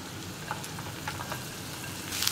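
Chopped onions frying in a pan with ginger and garlic for a Kerala hotel-style egg roast, giving a steady soft sizzle with a few faint clicks, close and alone.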